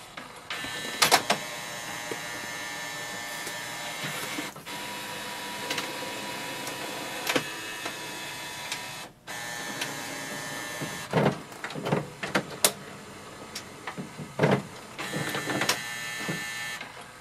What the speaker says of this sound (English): place a page here facing upwards like this and click on the printer scan button